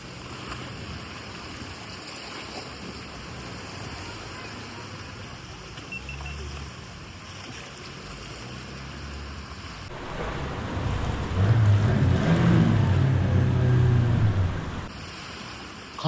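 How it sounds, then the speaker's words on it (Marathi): A boat moves through sea waves along the rocky Konkan coast at Devbag, heading into a rock crevice; a steady rush of surf and wind noise swells louder toward the end, with no clear talk. "पण आपली बोट आतमध्ये जाते बघा"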